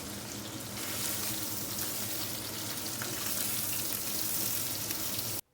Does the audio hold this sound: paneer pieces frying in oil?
yes